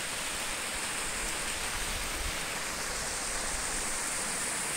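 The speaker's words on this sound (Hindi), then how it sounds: "ये देखिए वो लेक से पानी फिर यहाँ रिलीज हो रहा है" Water released from a lake at Pangoot–Kunjkharak rushes down in a steady, broadband roar like a waterfall or fast stream, constant and fairly close throughout with no speech.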